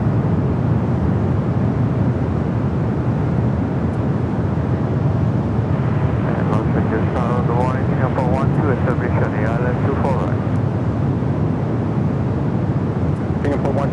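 A Dreamliner airliner bound for Tokyo Haneda lines up on the runway at Los Angeles International Airport, its loud, steady engine roar filling the scene with a rising, wavering whine partway through.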